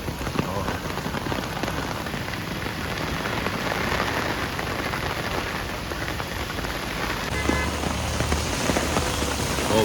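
Heavy rain falls steadily outdoors over an open ground in Surat, a dense, even patter of drops on surfaces continuing unbroken and fairly close, with no voices.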